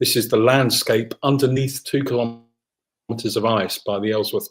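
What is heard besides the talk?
No everyday noises stand out.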